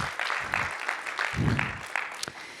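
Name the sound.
audience applause at a conference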